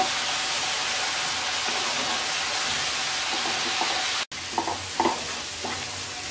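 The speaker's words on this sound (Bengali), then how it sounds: "এবার মশলাটাকে কিছুক্ষণ কষিয়ে নেব।" Turmeric and coriander powder spices sizzle steadily in a frying pan for a gram lentil, egg and papaya curry, with a short break and then a few scraping stirs of the spatula near the end.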